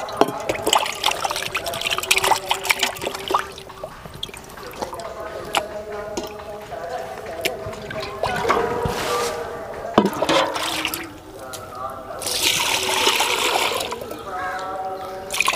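Running tap water splashes and trickles over beef pieces being washed in a bowl, with irregular pours, drips and sloshing, loud and close, alone without talk.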